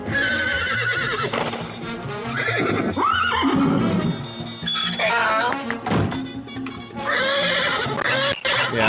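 Horse neighing and whinnying in a pony cartoon, repeated bright whinnies over a busy soundtrack with hoof clip-clops, loud and continuous throughout.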